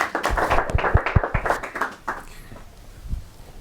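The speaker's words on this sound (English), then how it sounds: "So let's give a warm round of applause" An audience at an evening leadership talk in London claps to welcome the guest speaker: a burst of sharp, close hand claps that thins out and fades within about two seconds, followed by quiet room sound.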